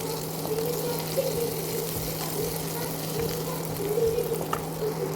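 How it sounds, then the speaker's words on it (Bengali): Onions, garlic and green chillies fry in a pan, giving an even, continuous sizzle close by over a low steady hum, with no voices. "পেঁয়াজটা ভালো করে লাল লাল করে ভেজে নেবো"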